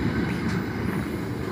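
A freight train rolls through Nuneaton station with a steady, loud rumble of wagons and wheels, a continuous roar with faint metallic squeal.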